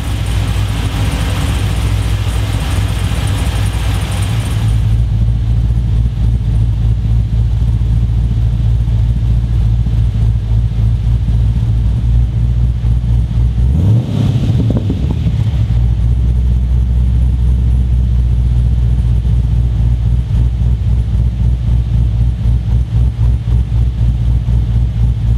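A cammed LS V8 with a VCM camshaft, in LS2 and 5.7 litre form, runs alone at a loud, lumpy idle, then revs sharply once midway and drops back to a steady, choppy idle.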